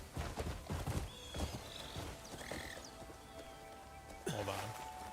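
A horse in the video game Crimson Desert gallops through woods with quick hoof clip-clops early on, followed by a short whinny near the end, all fairly quiet in the game mix.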